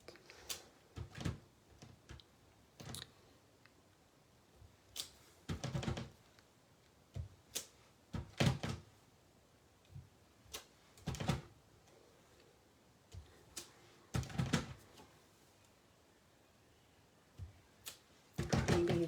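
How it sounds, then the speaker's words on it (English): A rubber butterfly stamp is pressed repeatedly onto an envelope flap, making a series of sharp, close taps in an irregular rhythm with quiet pauses between them and no talk. "I'm just going to kind of stamp these little butterflies going all sorts of directions all over the flap of my envelope"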